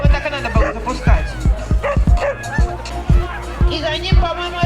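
Sled dogs and huskies bark in rapid, repeated close yelps and whines at the finish of a snowy husky race, a loud continuous chorus mixed with a crowd's babble and an announcer talking.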